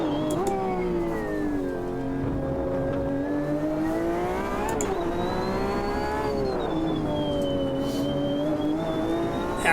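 Race car engine in the Automobilista 2 Racin' USA pack, revving steadily with a loud, continuous harmonic drone that rises and falls in pitch as the car accelerates and lifts, no voices over it.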